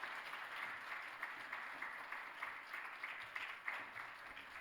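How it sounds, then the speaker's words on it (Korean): Church congregation at a second Sunday worship service in a Korean church gives steady, fairly faint applause that holds evenly without pause. "우리 한 명 한 명당 박수를 한번 쳐주시면 고맙겠습니다."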